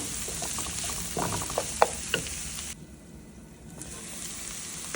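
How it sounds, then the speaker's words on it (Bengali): Chopped garlic cloves frying in a pan as they are stirred, an even sizzle with a few scraping strokes, then the sound drops to a softer hiss partway through. "এ পর্যায়ে আমি রসুনের কলির কুচিগুলো দিয়ে দিলাম দু তিন মিনিট নাড়াচাড়া করে নেব"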